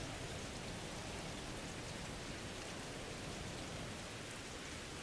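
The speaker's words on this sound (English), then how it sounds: "Oh, it's raining." Steady, dense rain falls in the Stormlands VR video game, a continuous hiss of drops on surfaces that stays constant and fills the whole scene without any voices.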